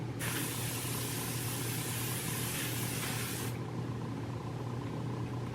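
A steady makeup setting spray aerosol hisses continuously for about three seconds, close and fairly loud, then cuts off, leaving a low background hum.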